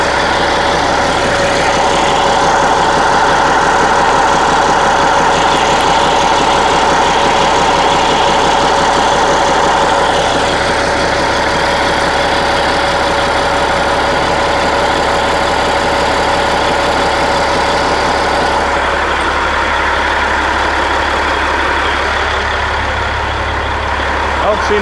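A 1983 Kenworth cabover truck's diesel engine idles steadily and loud, a continuous low rumble with a mechanical clatter that barely changes, easing slightly near the end.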